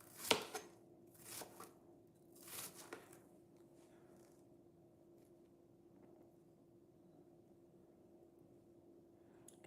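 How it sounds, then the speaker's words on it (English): A knife chops onions small on a board in a few quick bursts of sharp taps near the start, then the sound fades to quiet room hum. "So I just try to chop the onions small so I can put them inside the meatball"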